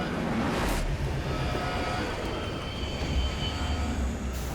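A train in the video game Sniper Elite Resistance rumbles steadily with a low rolling drone, metallic creaks and faint whistling tones throughout, continuous and moderately loud.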